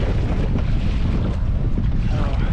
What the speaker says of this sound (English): the wind is building the closer I get to my Jeep